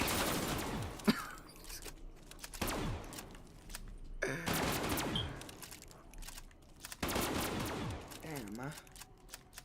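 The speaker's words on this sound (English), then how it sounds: "catch this Glock 22" Glock 22 pistol fire in a zombie video game, several sharp shots in bursts spaced a couple of seconds apart, each with a ringing tail, fairly close and loud.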